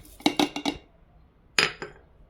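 Rice being added to a cooking pot for a rice-and-lentil dish: a quick, close run of four bright metallic clinks, a short pause, then two more taps, with no talking.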